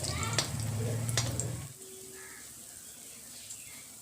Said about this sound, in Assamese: ইয়াত তেল গৰম হৈ গৈছে আৰু ইয়াত মই এতিয়া এই বেটাৰখিনি অকণমান দি দিম